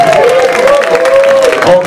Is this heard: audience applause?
yes